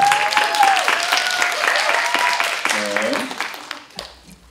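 Applause from an audience at a TV show press launch, a bright crackle of clapping that carries on under people talking and laughing, fading away before a sudden drop to near quiet at the end.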